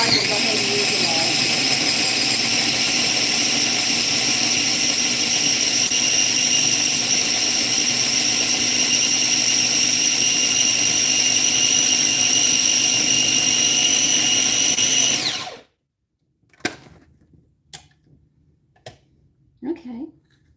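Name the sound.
food processor grinding lard with nut mixture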